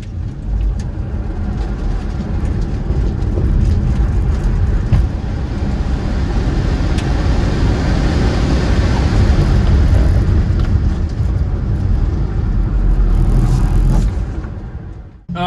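Tesla Model 3 Performance with modifications driving a lap on a race track, a loud, steady rumble of road and wind noise from inside the car that holds constant before fading out at the end.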